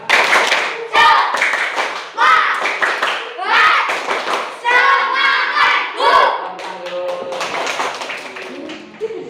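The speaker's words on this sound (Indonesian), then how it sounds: "kita tepuk semangat lagi" A classroom of students performs a rhythmic 'tepuk semangat' clapping chant, loud patterned claps in quick bursts mixed with chanting voices, pausing briefly between phrases.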